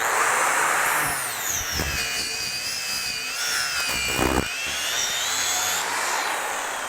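A DeWalt angle grinder fitted with a flap disc whines at high speed while sanding, its pitch dipping and rising as it is pushed against the work, loud and close with no talk.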